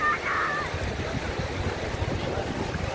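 Ocean surf washes at Prainha beach in Arraial do Cabo on a crowded day, a steady broad roar mixed with wind noise and faint background voices.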